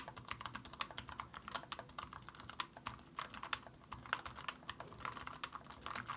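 Steady, quick clicking of keys on a Miiiw computer keyboard, fairly quiet and close, with no voices.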